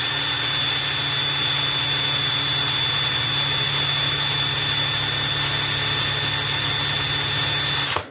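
A MEKIBOR 800 Nm cordless impact wrench runs loud and close in one continuous whine with a steady tonal hum, holding for about eight seconds before cutting off abruptly.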